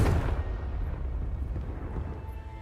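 A fiery spell explosion in the video game Hogwarts Legacy lands as a loud, deep boom. Its rumbling roar then trails off over a couple of seconds and no voices are heard.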